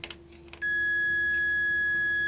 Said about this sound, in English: see, it beeps.